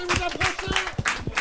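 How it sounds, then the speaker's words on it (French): Scattered hand clapping greeting grilled merguez sausages coming off the grill at a drinks stand, several sharp bursts of claps in an uneven rhythm, mixed with voices talking over them. "Ça s'applaudit. Bravo."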